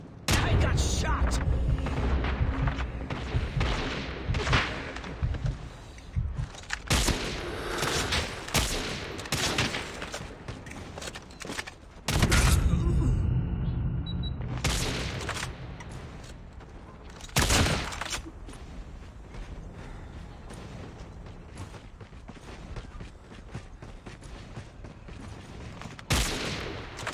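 Dense rapid gunfire from Call of Duty: Mobile in a sniper-only one-on-one match, with sustained bursts and sharp cracks broken by brief pauses, loud and close throughout.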